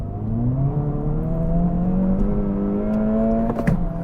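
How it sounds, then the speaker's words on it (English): Acura Integra Type S with a 2-liter turbo engine and 6-speed manual pulls hard under acceleration, a steady loud engine drone rising slowly in pitch for about four seconds, heard from inside the car with no talking. "acceleration is no problem"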